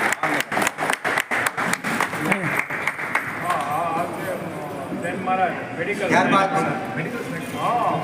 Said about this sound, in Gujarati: આપણે એને તાળીઓથી વધાવી